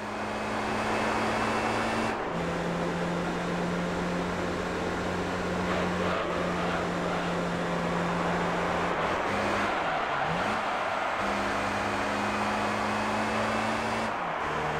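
Mid-engine Opel Speedster Turbo in Gran Turismo 3, its engine droning steadily and close with a few gear-change dips in pitch, loud and continuous throughout, no voices.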